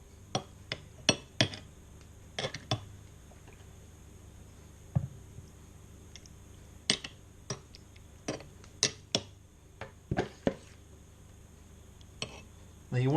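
Venison rillettes being spooned into a glass jar and pressed down: scattered sharp clinks and taps of a spoon on glass, irregular and fairly quiet, separated by near-silent pauses.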